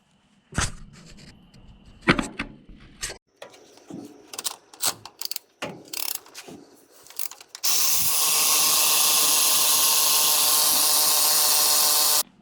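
Tools work on the injection pump of a triple-turbo 12-valve diesel truck. Scattered ratchet clicks and metallic knocks come first, then a loud, steady power-tool whir runs for several seconds before cutting off.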